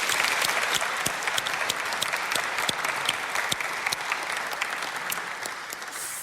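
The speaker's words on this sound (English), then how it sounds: "Let's give Azar a round of applause" Audience in a church service applauds, a full round of clapping with sharp individual claps standing out, gradually tapering toward the end, with no speech over it.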